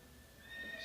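A horse in a Zelda video game lets out a brief, faint whinny under a soft background hum.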